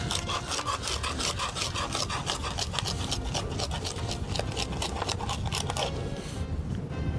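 Garlic being ground by hand with coarse salt, a close, fast back-and-forth rasping scrape in a quick steady rhythm that continues for several seconds before easing off.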